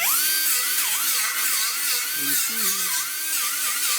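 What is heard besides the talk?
grinder grinding welds off rusty rear deck panel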